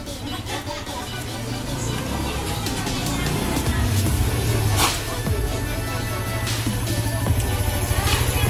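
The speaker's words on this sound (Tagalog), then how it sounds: "Paanda rin natin yung motor." A motorcycle engine starts and rumbles steadily with a noisy, rough idle, rising slightly midway, amid background clatter and some outdoor noise.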